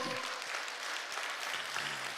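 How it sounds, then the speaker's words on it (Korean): Church congregation applauding, a dense broadband wash of many hands clapping steadily throughout with a faint voice or two underneath. "하나님께 영광의 박수 크게요."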